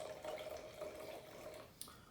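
Saint Cosme Côtes du Rhône Les Deux Albion red wine, a 2017 vintage, pours from the bottle with a close, gurgling trickle into a glass, tapering off near the end with a small clink.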